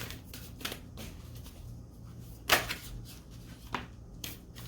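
Tarot cards shuffled by hand in several quiet bursts of papery riffling and slapping, close and faint, spaced out with pauses between.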